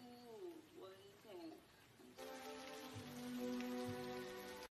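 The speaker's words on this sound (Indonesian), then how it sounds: "Melihat cuaca di luar yang sedang hujan" Steady rain falls outside, starting partway through as a dense, even hiss that continues to the end, with tonal voice-like sounds over it.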